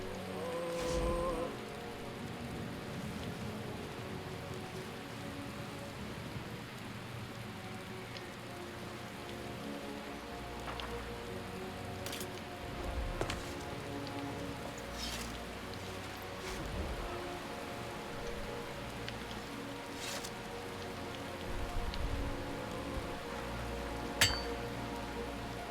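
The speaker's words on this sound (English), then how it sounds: "And it's starting to rain" Steady rain patters on surfaces in the Skyrim video game, a soft continuous hiss with scattered clinking drops and a few brief louder ticks near the end, with no talking.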